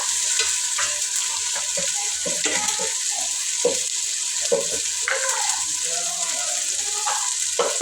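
Ginger garlic paste fries in oil in a pan with a steady, close sizzle, while a spoon scrapes and clicks against the pan in irregular stirring strokes.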